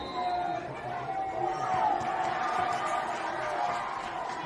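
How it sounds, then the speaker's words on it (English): Crowd noise from a varsity high school football game between Westerly and RHAM, a broad sustained roar and cheer from the stands that swells and holds under scattered voices. "And a big roar from the crowd."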